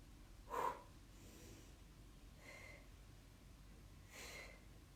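Breath pushed out while holding a pilates plank: one sharp, snort-like exhale near the start, then two softer, fainter breaths later in a quiet room.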